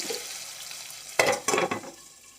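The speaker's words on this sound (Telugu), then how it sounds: "పోపు వేగింది" Spices tempering in hot oil in a pan for a tomato and tamarind dal, with two sharp bursts of sizzling and crackling over a quiet kitchen hiss.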